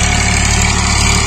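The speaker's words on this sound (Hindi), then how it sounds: "यहां पे ट्रैक्टर चल रहा है" A tractor engine drones loud and steady at close range in a field during December wheat sowing, a continuous rumbling hum with no talk.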